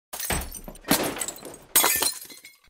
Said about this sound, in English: They could hear crashing sounds and breaking glass as they ran away.